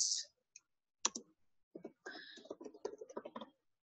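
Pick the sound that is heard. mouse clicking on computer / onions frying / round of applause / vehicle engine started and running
mouse clicking on computer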